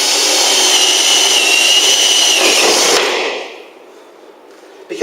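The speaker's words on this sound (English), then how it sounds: "centering the drill bit with that point," A drill bit bores a hole in wood, centered on a bradawl mark. It gives a loud, steady grinding whir for about three seconds, then cuts off to near silence with a small click at the end.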